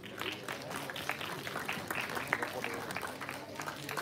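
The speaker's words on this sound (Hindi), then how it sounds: "उत्तम प्रस्तुति, तालियां हो जाए।" Audience at a Hindi comic poetry gathering in a school inter-house competition claps after a poet's recital, a modest, busy patter of hands with some crowd noise and voices mixed in.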